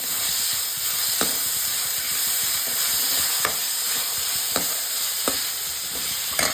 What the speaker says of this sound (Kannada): ಸ್ವಲ್ಪ ನೀರುಳ್ಳಿ, ಬೇವು ಸೊಪ್ಪು ಹಾಕಿ ಫ್ರೈ ಮಾಡುವ